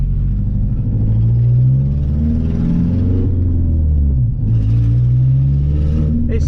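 A Stage 3 tuned Ford Fiesta ST180 engine rumbles loudly up close at Castle Combe, its pitch rising and falling as it revs, with a brief dip midway and faint voices underneath.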